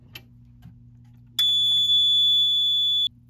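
Fire-Lite MS-4424B fire alarm control panel sounding after a system reset: a few faint ticks, then a loud, steady high-pitched electronic tone that holds for about two seconds and cuts off abruptly.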